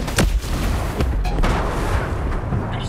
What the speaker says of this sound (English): Got a sniper about to fire on us.